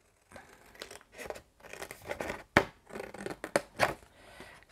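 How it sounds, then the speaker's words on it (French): Scissors snipping away excess paper from a small pop-up page craft, a run of close crisp cuts and rustles with several sharper snaps, no talk. "Donc je prends mes ciseaux"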